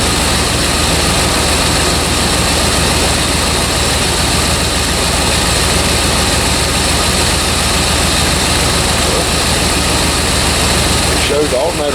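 An old Dodge engine runs in a yard, a loud, continuous idle hum with a steady low throb, while someone talks over it.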